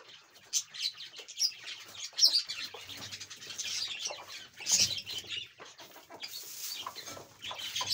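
Hens cluck and chirp intermittently at close to moderate distance, with scattered bird calls over a quiet background.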